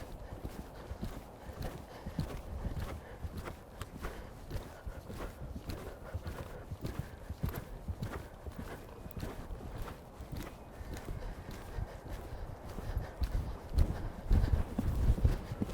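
A retrained racehorse cantering in a showjumping training session, hooves thudding in a steady three-beat rhythm on the arena surface, moderately close, with a trainer's voice speaking occasionally.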